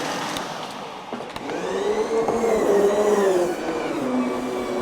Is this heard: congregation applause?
no